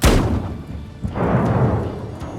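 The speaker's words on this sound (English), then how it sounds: "You essentially hook it up to a propane tank and it just makes giant loud blast to scare off birds off your crops" A propane bird cannon used to scare birds off crops, firing two deep booming blasts about a second apart, each followed by a rolling echo off surrounding mountains outdoors.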